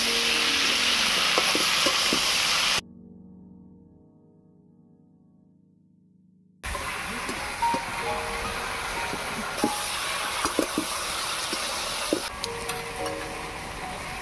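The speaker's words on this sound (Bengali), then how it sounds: "আলু আর বেগুনটাকে ঢাকা দিয়ে দিয়ে কষিয়ে নেব।" Brinjal and potato sauté in a pan with a loud, dense sizzle. Midway it drops to a muffled hush for a few seconds, then the full frying returns with scattered clicks and scrapes of stirring.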